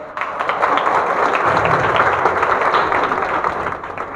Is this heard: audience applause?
yes